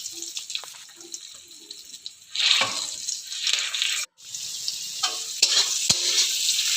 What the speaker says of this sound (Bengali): এবার আমি ডিম দুটো ভেজে নিচ্ছি